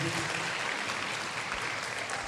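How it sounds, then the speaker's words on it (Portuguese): A church congregation applauds in a dense, continuous wash of clapping that stays loud and even from start to finish, with no speech over it. "Eu queria que você aplaudisse Jesus mais uma vez."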